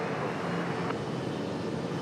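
A 14-year-old Delta Boeing 737 arrives from Atlanta at Raleigh-Durham airport, heard as a steady, broad jet roar that holds level throughout the short stretch.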